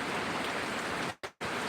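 Heavy rain pours steadily during severe flooding in a coastal village, a dense continuous wash of water that briefly cuts out twice near the end.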